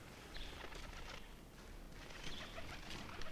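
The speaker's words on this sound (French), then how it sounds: "Pigeon." Soft pigeon cooing in a city setting, faint and somewhat distant, heard as a few low rounded calls over a steady background hiss with no talk.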